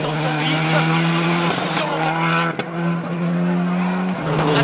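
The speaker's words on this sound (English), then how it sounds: "You can see he's just too fast into the corner, and as soon as the wheels touched the grass, the car was out of control." A WRC rally car at Rally Germany 2007 spins out of a corner onto grass, its engine droning loudly and steadily with tonal harmonics, dipping briefly mid-spin before revving again.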